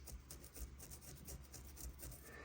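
Rubbing over the rough, calcified spots on a python egg, a faint, close, dry rasping in quick repeated strokes.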